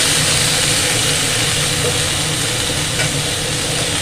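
Spices frying with boiled figs and potatoes in a pan for a Bengali fig curry, a steady close, loud sizzle that holds evenly throughout with no talk.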